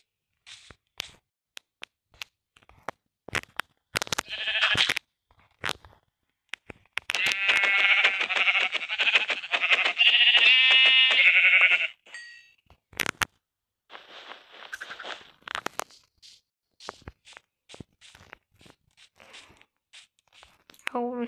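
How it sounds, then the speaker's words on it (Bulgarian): A Minecraft sheep bleats in a long nasal burst, set among sharp clicking game sounds and short noises, close and fairly clear, with no talk. "Сега трябва да убия тази овца"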